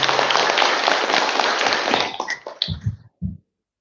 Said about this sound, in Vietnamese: Một tràng vỗ tay đi quý vị.